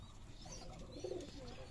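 Racing pigeons coo softly in a farm coop, a faint low coo rising briefly over quiet background with a few light chirps.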